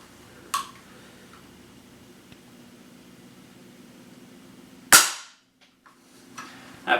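A single sharp, loud shot from an RWS Diana 56 TH .177 air rifle cracks out against a quiet outdoor background, ringing briefly before fading, with a couple of smaller clicks and knocks around it.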